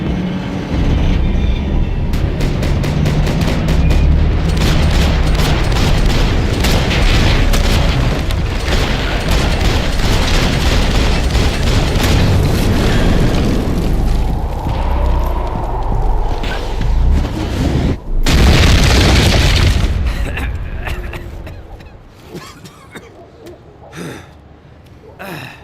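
Game combat in Max Payne 3: a dense, loud wash of gunfire and booming explosions that runs nearly continuously, swells again around the middle, then drops away near the end, with shouted dialogue mixed in.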